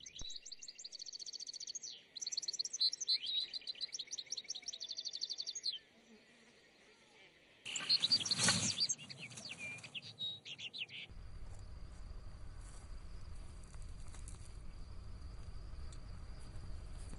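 Goldfinches sing in a rapid run of bright chirps and twitters for several seconds. A loud burst of noise follows, then a steady low rumble with faint bird calls continuing above it.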